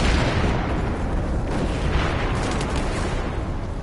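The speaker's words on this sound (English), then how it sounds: "Now there's a nade." A grenade blast in the video game Battlefield 4 on PS4 Pro: a dense, loud rumbling roar that fills the whole clip, booming and sustained with a slow decaying tail and no talking.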